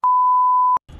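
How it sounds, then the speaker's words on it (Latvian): A single censor beep: a steady, loud electronic tone that holds for about three quarters of a second and then cuts off abruptly, followed by faint low background noise. "Noņem tos pīkstus."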